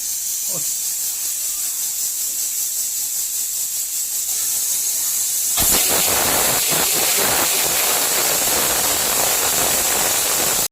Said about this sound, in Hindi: कुकर में 2-3 सीटी मारना पड़ेगा। देख सकते हैं अभी सीटी मारने वाला है।